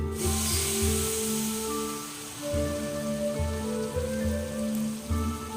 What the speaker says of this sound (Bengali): এইভাবে করে দিয়ে দিয়ে আমি ভেজে ভেজে তুলে নেব।